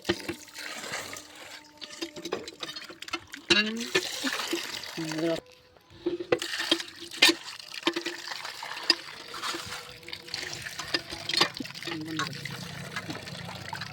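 Cut snakehead fish pieces washed by hand in water produce intermittent splashing, trickling and sloshing with brief clatters and pauses, while a voice talks now and then.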